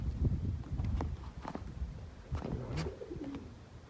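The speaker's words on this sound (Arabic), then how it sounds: "كاين الحمام هنا" Pigeons coo inside the old Boulaouane kasbah in Morocco, a few soft, throaty calls rising near its end over a steady rustling background and faint footsteps.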